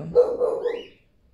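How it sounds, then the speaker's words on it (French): Dogs barking indoors, one short burst of a few muffled barks close by, then quiet. "Désolée pour les chiens."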